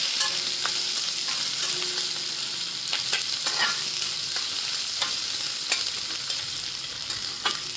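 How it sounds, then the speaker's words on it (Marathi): Green chillies and lengthwise-sliced onion frying in a pan, a continuous close sizzle broken by repeated spoon scrapes and clinks as the mix is stirred, with no talking. "आता हे चांगलं फ्राय करून घ्यायचं"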